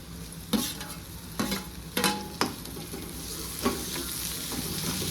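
Onion and tomato sautéing in a pan for egg bhurji, a steady close sizzle with a few sharp stirring scrapes and clinks of the spatula spaced through it.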